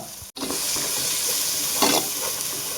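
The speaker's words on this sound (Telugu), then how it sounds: "ఉల్లిపాయ ఫ్రై అయిందండి అల్లం చిన్నపాయ పేస్ట్ రెండు స్పూన్లు వేస్తున్నాం కొంచెం పుదీనా" Fried onions sizzle in a pan as ginger-garlic paste and mint go in, making a continuous close frying hiss with soft stirring scrapes and one brief dropout near the start.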